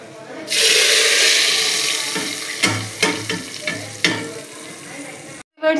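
A loud hiss of hot oil tempering with round chilies bursts out as it is poured into black lentils and keeps sizzling, followed by stirring clatters and scrapes against a pot.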